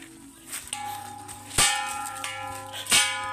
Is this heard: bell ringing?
yes